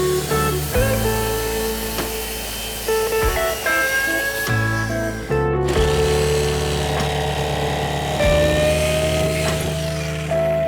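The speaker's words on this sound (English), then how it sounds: "We'll finish off with a reciprocator in a second." Reciprocating saw cutting into kitchen cabinets during salvage work, a steady loud buzzing drone with tonal whine that stops briefly a few times and then resumes, close to the listener with no talk.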